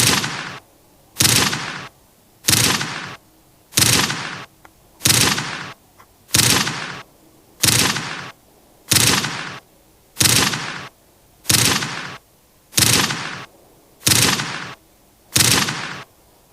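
Pistol shots in the video game Prison Break, a steady series of about thirteen loud, sharp reports evenly spaced a little over a second apart, with no talk.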